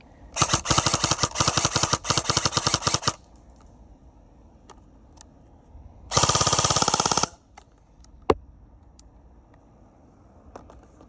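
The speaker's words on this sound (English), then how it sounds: "Full auto, yes again, quite a decent fire rate." An SSR4 BB gun fires on full auto in two loud, rapid bursts, the first about three seconds long and the second about one second, with scattered single clicks and one sharper crack between them, and no speech.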